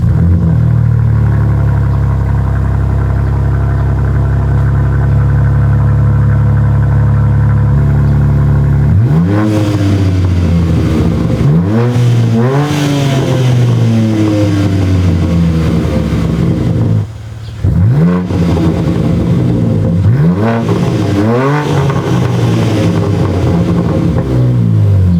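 A BMW G80 M3 fitted with an AWE Track exhaust sits at a steady loud idle, then cracks into a series of sharp, rising revs that fall back down, with a brief dip before a second burst of revving.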